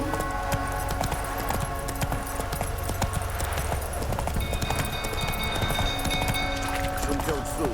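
Roach, Geralt's horse in the video game The Witcher 3: Wild Hunt, gallops with a steady, close run of hoofbeats clopping under a dense layer of game sounds and background voices.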